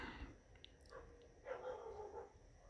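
Dogs bark at a distance in a video game, faint short yaps and yips scattered over a low background rumble.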